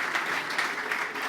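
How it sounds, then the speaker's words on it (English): Audience applause for a speaker taking the stage at a front-end developer conference, a brief steady wash of dense clapping at moderate level throughout. "Please give a very warm applause to Katie Sylor-Miller."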